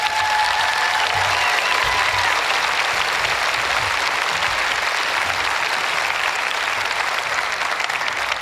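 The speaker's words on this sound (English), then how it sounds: "would you make your way up to the podium and to a rousing applause?" An audience at an opioid response summit gives loud, sustained applause that holds at an even, dense level throughout, with a faint murmur of the crowd beneath.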